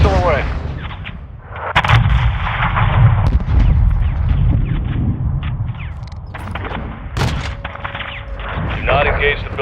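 Video game combat with a missile strike and repeated gunfire: heavy booming blasts and sharp cracks burst irregularly over a rumbling background, with radio-style voices talking at times.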